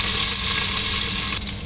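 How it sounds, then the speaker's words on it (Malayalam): Eggs sizzle and fry steadily in a hot pan for egg biryani, a loud, continuous crackling hiss close by with no talk. "ഈ മുട്ട നമുക്കൊന്ന് ഫ്രൈ ചെയ്യണം."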